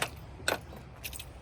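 Factory keys for a 2005 Ford F250 Lariat diesel truck jangle in two short bright bursts close by, over a low steady background rumble, with no talking.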